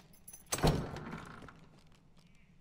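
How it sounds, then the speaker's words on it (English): A door opens in the dark fantasy dungeon game Dark and Darker: a sudden heavy thunk followed by a short creaking scrape that fades within about a second, fairly close. "Let's open this door."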